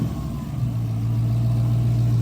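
A supercharged car engine revs up close in a parking lot, a deep rumble that rises and then holds at a steady, droning pitch.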